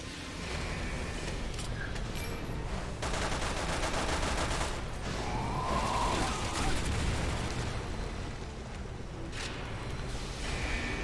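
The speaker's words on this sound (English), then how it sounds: "Quick shots." Dense, continuous gunfire and shots from the video game Resident Evil 6 fill the whole stretch, loud and rapid, with no clear talking over it.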